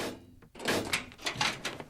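A door opens with a clatter and rattle of handle and frame, a short burst of knocking-like thumps followed by a rising, rustling swing, fairly close and loud with no talk.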